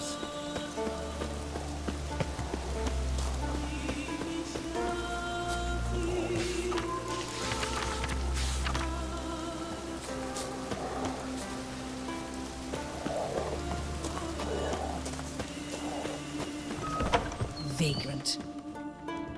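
Rain patters steadily across a Skellige pasture in The Witcher 3, a constant soft wash of drops beneath intermittent voices talking over it.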